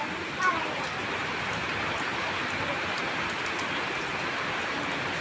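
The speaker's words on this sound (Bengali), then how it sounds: "চারিদিকে শুধু তুফান, ঝড়, বৃষ্টি" Heavy rain pours steadily during a spring storm, a dense, even hiss of falling water filling the whole span at constant loudness, with a brief bump near the start.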